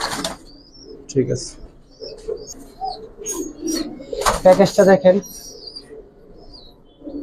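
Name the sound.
Giribaj and colored pigeons cooing and flapping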